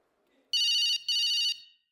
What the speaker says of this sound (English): As I was walking down the room, my phone rang.